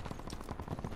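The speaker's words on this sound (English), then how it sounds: "I see a guy shooting." Rapid automatic gunfire sounds in a video game, a continuous fast burst of shots, moderately faint and heard alone.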